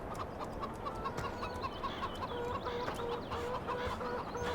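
Farm hens cluck steadily around an old barn, a close, continuous chatter of short repeated calls with a few higher notes over a dense flock backdrop.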